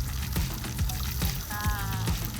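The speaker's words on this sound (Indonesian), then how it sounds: "Nila ini lagi dimasak menjadi oseng-oseng, tapi ditambah sama genjer kayak gini" Fried tilapia is stir-fried with genjer leaves and seasoning in a pan, giving a constant sizzling hiss broken by rhythmic spatula scrapes and knocks, close by, with a faint tonal whine partway through.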